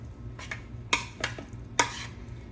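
Marinade juice from a jar of marinated vegetables pours onto a spoon in a kitchen, giving a few short wet splashes and clinks spaced apart over a low background hum.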